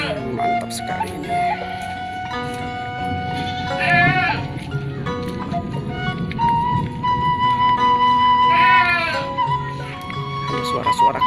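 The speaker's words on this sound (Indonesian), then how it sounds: "Suara-suara kambing" Goats bleat in wavering, quavering calls, two prominent bursts a few seconds apart, over a busy outdoor background with other sounds, in a remote rural hamlet during rain and thunder.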